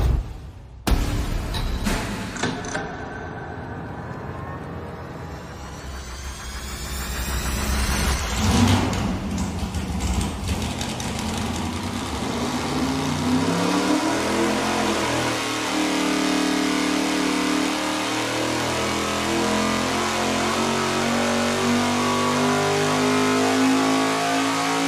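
Engine on a dyno pull with tight exhaust valve lash, a loud sustained run that rises in pitch and holds steady near full power for over twenty seconds, with no talking.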